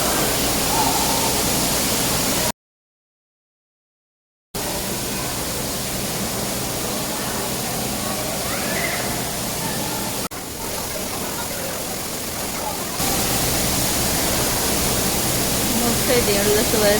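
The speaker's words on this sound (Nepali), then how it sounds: "पानीले गर्दा यस्तो धेरै आवाज छ कराएर कराएर बोल्नु पर्ने" Loud, steady rushing of water at a splash water park fills the scene, a broad hiss that continues almost throughout except for a brief dropout, with voices talking over it.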